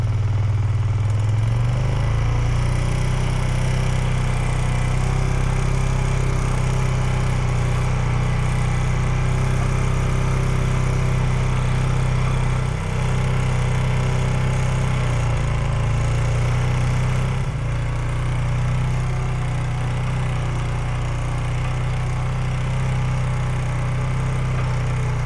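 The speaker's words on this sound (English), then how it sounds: "So since this is a 400, we're just gonna rock low gear all the way back." A 400 ATV engine pulling steadily in low gear, with a loud, continuous low drone holding an even pitch from close by and no talking.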